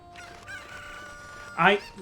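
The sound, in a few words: cucco chicken crowing in the video game Zelda: Ocarina of Time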